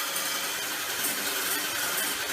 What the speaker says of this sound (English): Then I start whisking my egg whites with the electrical whisker.